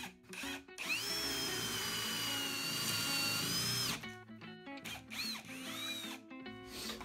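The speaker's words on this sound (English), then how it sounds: "we're gonna use Forstner bit because I don't have a spade bit that big" A power drill with a 1.25 inch Forstner bit bores a hole in wood, running as a loud steady whine for about three seconds. Shorter bursts of drilling follow, broken by brief pauses.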